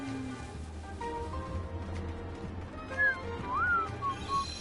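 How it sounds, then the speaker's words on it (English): A person whistles a few brief, faint gliding notes near the end, set against steady background noise in the Kingdom Hearts 3 game. "I promised I wouldn't subject you to my horrible whistling."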